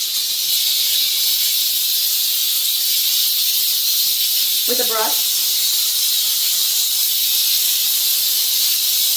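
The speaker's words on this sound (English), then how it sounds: "the steam starts almost right away" A small portable steamer hisses out steam in a steady, loud, bright jet that runs unbroken throughout, with a brief spoken voice cutting in midway.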